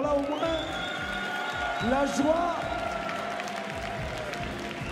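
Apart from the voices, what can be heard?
audience applause and cheering at an awards ceremony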